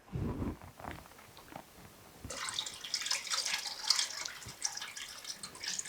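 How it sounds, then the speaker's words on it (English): Water pours into a pot of simmering chicken bone broth with chicken feet, a steady bright splashing that starts about two seconds in and runs to the end, close and fairly loud after a few soft knocks. "But I am going to add a little more water."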